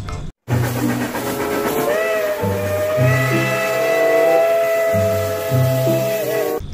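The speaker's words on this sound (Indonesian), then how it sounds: "Ini kereta api uap" A toy steam train hisses and whistles with a long, steady whistle tone over a chugging, pulsing hum, loud and close throughout.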